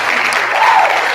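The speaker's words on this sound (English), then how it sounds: "Round of applause for that" A short burst of audience applause in a New York City setting, dense clapping at close range that holds steady for about a second.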